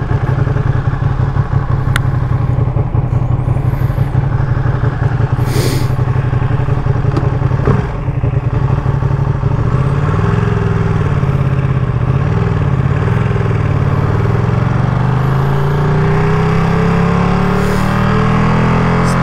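Limited Edition 2023 Ducati Panigale V2 being ridden, a loud continuous engine drone close up with wind rush, the pitch rising and falling through gear changes in the second half.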